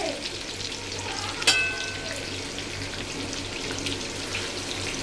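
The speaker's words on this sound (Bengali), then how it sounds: "আর আমি ভাজছি" Marinated chicken chaap fries in a pan with a continuous close sizzle, a brief clatter of stirring partway through, and a low steady hum underneath.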